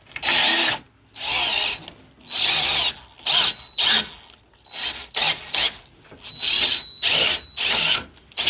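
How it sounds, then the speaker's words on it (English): Power drill with the largest bit on hand boring out a hole for a chisel plow setup on a rider lawn mower, grinding in repeated bursts of about a second each with brief pauses between, loud and close. "Gotta drill that out a little bit."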